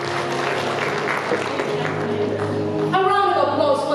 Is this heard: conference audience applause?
yes